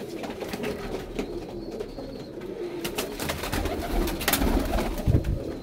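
Pigeons coo in low, repeated murmurs over a busy, noisy background, growing slightly louder toward the end.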